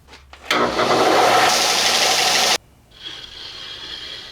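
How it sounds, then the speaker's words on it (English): A belt sander grinds down the edges of a dragon glass blade, a loud, continuous abrasive roar lasting about two seconds before dropping to a quieter motor hum. "I'm going to start by using the belt sander to get the edges down."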